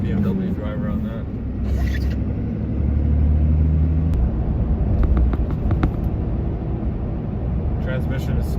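Cab interior of a stock Cummins diesel truck with a manual G56 transmission, driving with a steady low engine rumble and road noise throughout, and a few faint clicks.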